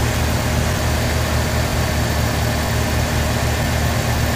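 A Chevy S10 pickup's engine runs at a steady idle, producing a constant, even mechanical drone with low rumble throughout and no voices.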